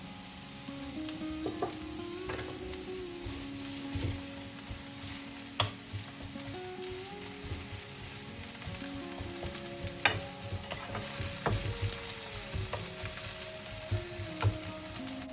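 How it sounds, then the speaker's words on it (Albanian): Chopped onion fries in a little oil in a pan with a steady sizzle, broken by occasional clicks and scrapes of stirring and no speech. "Do vazhdojmë ta skuqim qepën me pak vaj."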